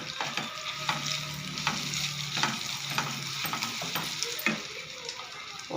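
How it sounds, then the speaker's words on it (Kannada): Red chutney paste, ground in a mixer, sautés in oil in a pan with a steady close sizzle and frying hiss, broken by repeated scraping stirs throughout. "ಎಣ್ಣೆಯಲ್ಲಿ ಬಾಡಿಸ್ಕೊಳ್ಳೋಣ."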